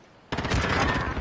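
Rapid automatic gunfire erupts abruptly in a first-person shooter match and continues as a loud, dense burst, close up and without talk.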